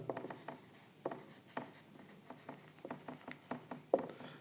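Pen or marker writing out section formula values on a board or page during a Class 10 coordinate geometry lesson: faint, short scratchy strokes in irregular bursts, close and quiet, with no talk.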